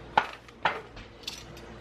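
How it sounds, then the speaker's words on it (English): A utensil scrapes and knocks against a 6-quart Dutch oven on medium-high heat while onions are stirred, giving three distinct metallic clinks spaced about half a second apart, clear and close. "stir in onions."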